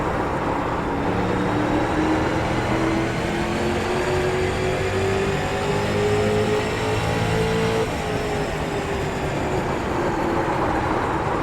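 A street stock car in the iRacing racing game at Martinsville roars steadily, its engine pitch climbing under hard acceleration and then dropping briefly when it brakes, loud and continuous with no talking.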